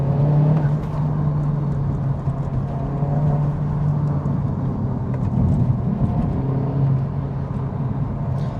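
A 2021 Honda Civic Type R FK8 Limited Edition pulls hard under acceleration, a steady droning engine hum with a strong low tone holding through the whole stretch, heard from inside the car with no talk.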